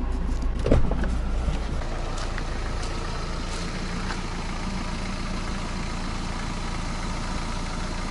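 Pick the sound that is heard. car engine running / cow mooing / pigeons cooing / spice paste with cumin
car engine running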